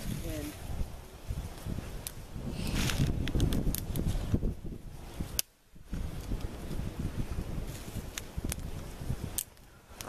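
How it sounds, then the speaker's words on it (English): Strong outdoor wind gusting and buffeting the microphone around a campfire setup, a rough continuous roar with a few abrupt dropouts and rustles. "that wind is ridiculous right now"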